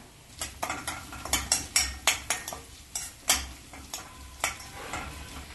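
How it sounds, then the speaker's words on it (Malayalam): Turmeric and asafoetida are stirred into sautéed onion, ginger and green chilli in a pan while making oats upma, with a spoon scraping and clinking rhythmically over a soft sizzle. "ഉള്ളിയും ഇഞ്ചിയും പച്ചമുളകെല്ലാം വാടി തുടങ്ങുമ്പം ഇതിലേക്ക് 1/4 ടീസ്പൂൺ മഞ്ഞൾപ്പൊടിയും 2 നുള്ളു കായപ്പൊടിയും ചേർത്ത് ഇളക്കി കൊടുക്കാം"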